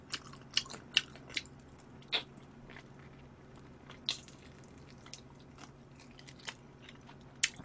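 Someone eating spicy chicken feet, with sharp, irregular crunchy bites and chewing spread through the clip over a quiet background hum.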